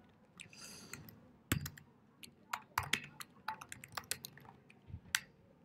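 Computer keys clack in quick, uneven bursts, sharp close taps with brief gaps, fairly quiet.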